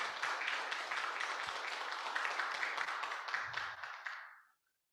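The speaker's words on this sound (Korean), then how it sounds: "여러분 힘찬 박수와 격려 응원 부탁드립니다" An indoor ceremonial audience breaks into dense, sustained applause at a Korean association event. The clapping stays loud and even for about four seconds, then fades quickly into silence.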